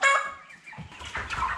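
A Cobb 500 broiler chicken clucks close by in a few short, throaty bursts, with some soft rustling between calls.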